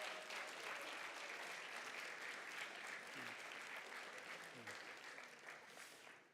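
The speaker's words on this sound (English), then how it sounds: "A round of applause for our judges, everybody." Audience applause for the judges at a startup showcase event, a steady wash of many hands clapping throughout, slowly thinning toward the end.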